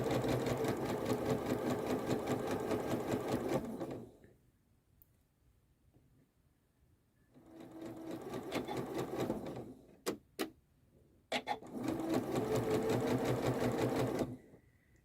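A Janome sewing machine stitches a fabric hem using a hemmer foot, its steady mechanical whirr running in two long bursts with a pause between and a couple of short taps before the second run.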